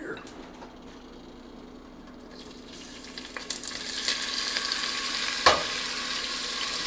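Sausage dropped into a hot pot for a garbanzo and jalapeño chicken sausage stew, sizzle building from quiet to louder frying with stirring scrapes and a sharp clatter near the end, a voice talking over it.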